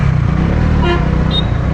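Big truck on an Indian road rumbling close past with a loud engine drone, and a short horn toot sounding near the end over the steady traffic noise.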